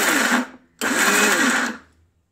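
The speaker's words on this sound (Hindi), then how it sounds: "इस तरह से रोक रोक के इसे चलाना है और ज़्यादा ग्राइंड नहीं करना है" A mixer grinder grinding cashews in short pulses: a loud whirring motor runs briefly, stops, then runs again for a longer burst before winding down to silence.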